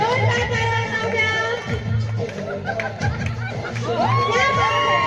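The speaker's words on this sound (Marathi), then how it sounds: "जोरदार टाळ्या जाऊ द्या." An audience at a gathering claps and cheers for a woman arriving to dance, with steady crowd chatter and shouts under a voice on a loudspeaker.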